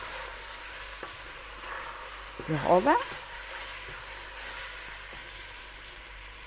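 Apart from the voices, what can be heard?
veal sizzling as it is fried with flour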